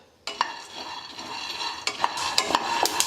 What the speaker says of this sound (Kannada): ಇವು ನೋಡಿರಿ, ಇವು ಚಟಪಟ ಅಂತಾವೆ ಮತ್ತು ಕಲರು ಚೇಂಜ್ ಆಗ್ಯಾವ ನೋಡಿರಿ.